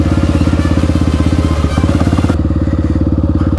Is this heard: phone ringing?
no